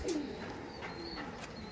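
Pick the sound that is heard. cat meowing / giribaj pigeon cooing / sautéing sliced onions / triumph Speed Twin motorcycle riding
giribaj pigeon cooing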